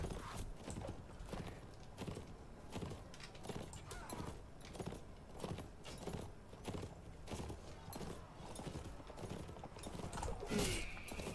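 Horse hooves clopping in the medieval combat game Mount and Blade, a steady run of soft, fairly quiet hoofbeats over a busy background of game noise and faint bird calls.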